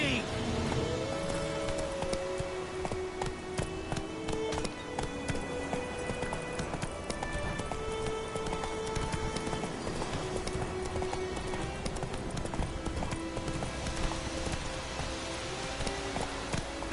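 Roach, a horse in The Witcher 3: Wild Hunt, gallops with steady clip-clopping hooves beneath a game soundtrack and ambient noise, with a voice urging it on at times.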